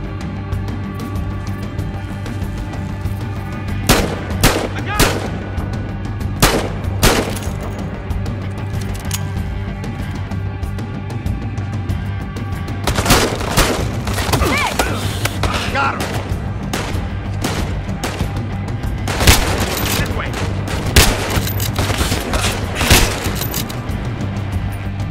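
Loud, sustained gunfire in the video game Battlefield Hardline during a campaign mission, with bursts of rapid shots and heavy booms over a constant droning background rumble, and no voices.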